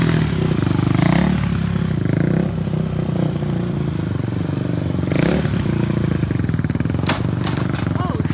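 A dirt bike engine idles and burbles steadily up close, with a rough mechanical clatter running throughout and someone talking over it.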